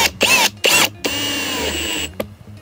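Power drill pre-drilling pilot holes about 2 cm from the edges of wooden panels for a DIY raised garden bed, three whining bursts close up, the last one longest and steadiest, with no talk.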